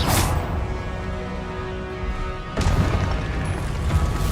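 The Confringo explosion spell in the Hogwarts Legacy game, bursting with a loud boom and crash, followed by a rumbling blast, close and alone without voices.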